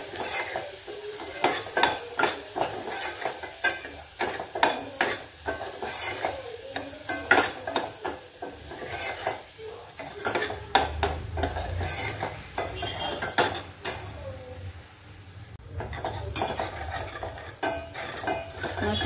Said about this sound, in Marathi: व्यवस्थित परतून घ्यायचं आहे